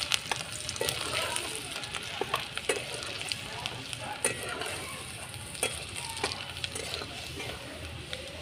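Chopped ginger, with garlic and chilli, sizzles in a hot pan while being cooked for soybean chilli, a steady close hiss broken by repeated sharp scraping and stirring clicks.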